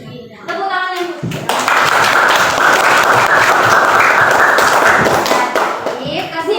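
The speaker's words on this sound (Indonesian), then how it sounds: "Tepuk tangan ibu." Children in a classroom break into loud, sustained applause for several seconds, clapping together up close, with a voice briefly heard before and after the clapping.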